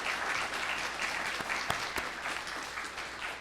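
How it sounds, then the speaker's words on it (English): Audience applause at the close of an evening university lecture, a dense, steady patter of many hands clapping in a hall, with a few sharper individual claps standing out. "please give another round of applause to Professor Pandya"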